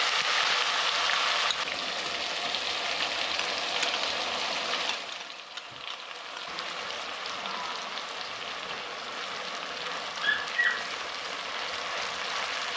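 Spice paste with tomato frying in oil in a pan for a spicy basa fish curry, a steady bright sizzle that drops a little partway through and then carries on evenly, with no talking.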